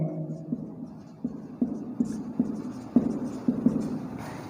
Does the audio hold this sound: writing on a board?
yes